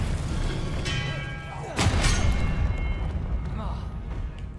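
Expelliarmus spell cast in Hogwarts Legacy, a sudden booming burst with a bright ringing shimmer that swells midway and fades out over a few seconds.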